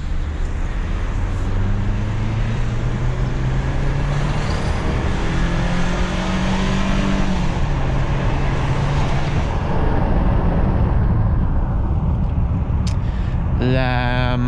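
A 2022 Nissan Frontier Platinum pickup accelerates hard, its engine climbing steadily in pitch under loud road and wind roar, then shifting near the end. Someone speaks briefly over it.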